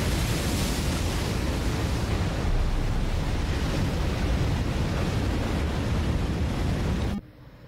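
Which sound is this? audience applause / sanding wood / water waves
water waves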